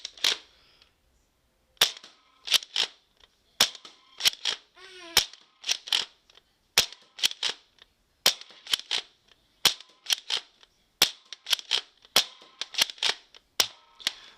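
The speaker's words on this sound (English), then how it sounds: "when you actually fire the blaster, it is very loud" A toy blaster fires a series of loud, sharp snapping shots in quick pairs and bursts, close up, separated by short pauses with faint mechanical clicks.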